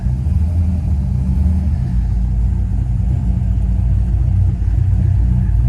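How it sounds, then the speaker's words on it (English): A Chevrolet El Camino idles on a cold winter day, giving a loud, steady low engine rumble close by that holds without breaks. "All right, she's been idling for a minute now."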